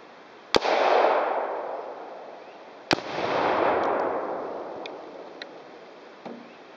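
AK rifle shots set off tannerite hidden in watermelons outdoors. Two sharp, loud blasts each roll into a long, booming decay, followed by a few fainter distant pops.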